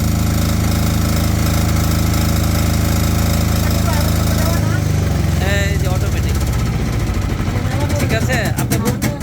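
A diesel generator on an automatic transfer switch runs with a loud, steady engine drone. The tone shifts partway through, and a rapid rattling pulse takes over near the end.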